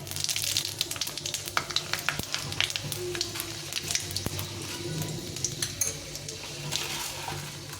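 A spoonful of panch phoron spices sizzles in hot oil for kalai dal with radish, a steady close crackle and spatter with quick sharp pops over a low background hum.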